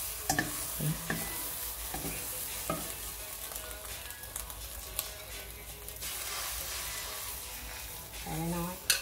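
Eggs frying in a pan for an omelette, a steady sizzle running throughout with occasional stirring scrapes and clinks, close by, with brief bits of voice in the background.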